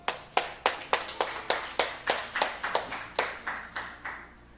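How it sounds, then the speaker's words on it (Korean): A church group at a weekday discipleship-training sermon claps in unison with a steady rhythm of sharp, evenly spaced claps, about three per second. The clapping is moderately loud and alone, fading slightly near the end. "박수로."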